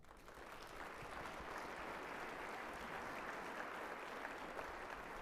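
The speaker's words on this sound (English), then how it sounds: "that deserves a round of applause" An audience at a mayor's State of the City address breaks into steady, sustained applause that holds at an even level throughout, a broad wash of clapping with no talk over it.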